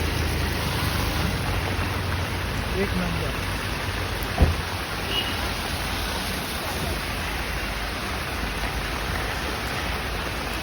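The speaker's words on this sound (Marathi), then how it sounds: "पाऊस बघा एकदम मस्त येते." Steady rain falls continuously around someone sheltering under an umbrella, a dense even hiss filling the background, with one brief sharp knock partway through and a short spoken phrase.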